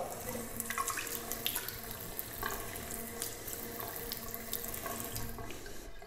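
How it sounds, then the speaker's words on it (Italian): Hot water runs from a tap while shaving lather is whipped with Van Yulay Smoky Mountain Whiskey soap, a Muhle R41 razor and Pinaud products: a steady, close splashing stream lasting the whole stretch, with no talking. "vado a mettergli qualche goccia d'acqua calda"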